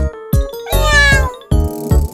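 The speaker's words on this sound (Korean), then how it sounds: "야옹야옹 고양이 너무너무 귀여워" A cat meows several times in quick succession, loud and close, each call clear and tonal with brief gaps between them.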